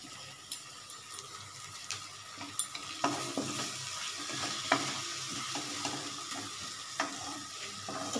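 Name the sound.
tomato and chili masala frying and being stirred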